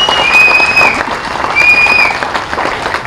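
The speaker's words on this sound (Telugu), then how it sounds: "మీ అందరూ చప్పట్ల ద్వారా హర్షధ్వానాలు తెలియజేయాలని చెప్పి కోరుకుంటూ" Loud, dense applause from a large crowd at a meeting, continuous clapping with a couple of shrill whistles rising above it.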